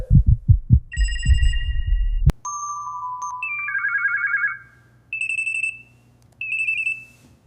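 Telephone ringtone chirping in repeated electronic bursts during a phone call, following a few low thumps; the ringing cycles several times with short gaps between rings.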